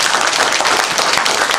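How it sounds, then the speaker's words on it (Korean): Steady, dense applause from a crowd, continuous and fairly loud throughout with no voices over it. "우리 박수 한번 쳐주세요."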